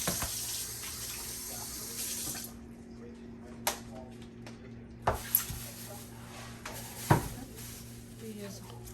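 Ampalaya being rinsed under a running kitchen tap, a steady broadband rush of water for the first two and a half seconds, then quieter handling with a few sharp knocks and clatters as talk continues.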